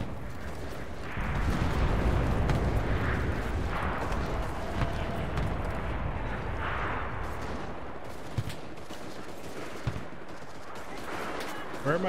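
Artillery fire in the World War II shooter Enlisted rumbles as a dense, continuous barrage, loud near the start, with a few sharper single shots and cracks later while voices talk over it.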